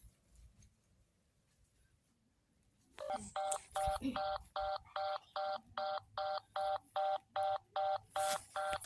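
An unanswered telephone call rings out as a run of regular electronic ring tones, each short burst evenly spaced after a few seconds of near silence, close and clear with no voice on the line.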